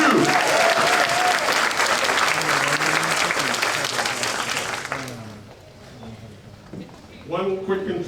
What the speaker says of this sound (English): let's give a special round of applause for all of our fire personnel and police personnel who are here to keep us safe